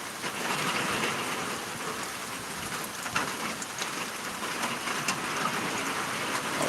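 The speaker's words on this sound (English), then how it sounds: "if you just want to put this on in your house and listen to the rain" Heavy rain from Tropical Storm Elsa in North Florida pours down steadily, a dense close hiss of drops spattering on surfaces with occasional louder splashes and no voices.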